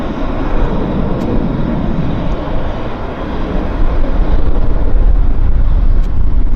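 A passenger jet departs Vancouver airport for Montreal, its engines producing a loud, steady broadband roar that swells further toward the end of the takeoff run, with no voices.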